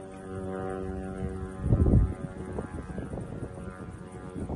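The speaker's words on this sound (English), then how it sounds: "Oh, that sounds like another drone coming in." A drone flies in toward a building during an attack on a Russian airbase, giving a steady harmonic droning hum that swells loudly midway and then carries on with rough, fluttering noise.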